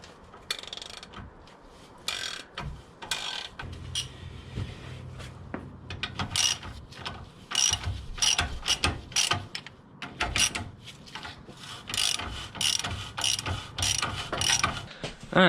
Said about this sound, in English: And it's a 5/8 on these bolts. And we'll just crank them loose.